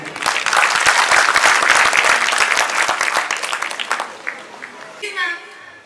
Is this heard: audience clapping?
yes